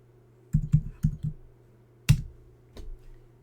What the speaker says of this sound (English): I can type numbers in from my keyboard